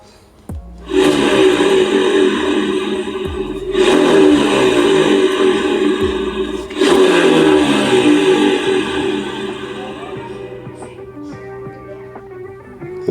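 Worn bearing from an injected automatic motor scooter (Honda Beat) spinning with a rough, grinding whir, loud and close, swelling in three pulses as it is turned, with no talk over it.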